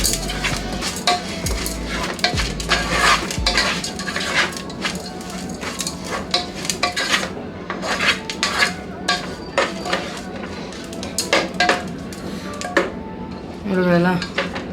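Garlic ghee rice is mixed in a pan on a stove, with a spoon clanking and scraping against the metal in steady, busy strokes, close and fairly loud throughout, without any talking.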